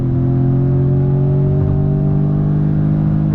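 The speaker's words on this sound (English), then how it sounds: "A little bit of pop from the exhaust." A 2021 Jaguar F-Type First Edition, rear-wheel drive, under steady acceleration from inside the cabin, a loud, smooth engine drone holding a constant tone throughout; no distinct exhaust pops stand out.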